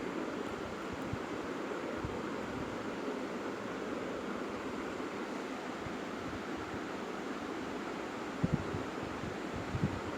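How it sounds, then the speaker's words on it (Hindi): Water falls steadily somewhere behind the room, a constant even rushing hiss that fills the whole stretch with only a couple of small knocks. "पीछे पानी गिरने लगा है बोलो।"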